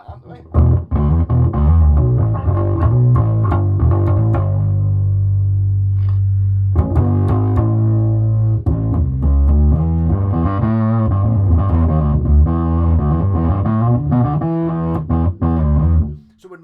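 Bass guitar driven through a distortion pedal into a GT1000 amp, loud gritty riffing with sustained low notes, a brief drop near the middle, then continued heavy playing until an abrupt stop.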